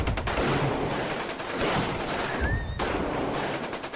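Dense action-movie gunfire rattles in rapid bursts, with fireworks mixed in and a brief whistling streak near the end, loud and continuous with no voices.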